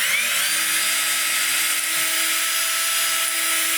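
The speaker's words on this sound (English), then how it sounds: "I'm going to drill the hole" A power drill boring a hole in scrap wood for a small organizer, a steady, continuous high-pitched motor whine with a constant tone throughout and no talk.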